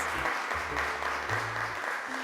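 A studio audience applauds steadily to welcome a five-year-old girl to the microphone on a children's show, the clapping dense and even from start to finish.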